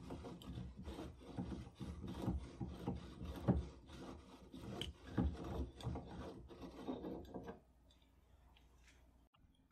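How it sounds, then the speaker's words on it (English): A Krag rifle receiver being unscrewed from its barrel, giving close, uneven rasping and grinding scrapes in bursts for about seven seconds before falling quiet. "Then the receiver unscrews all the way."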